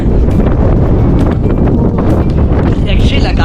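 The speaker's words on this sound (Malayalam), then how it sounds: "രക്ഷയില്ലാത്ത കാറ്റാട്ടോ, ഒരു രക്ഷയില്ല" Fierce gusts batter the microphone on a hilltop at Panchalimedu, a loud, unbroken roar rising and falling over a few seconds, with a voice faintly heard beneath.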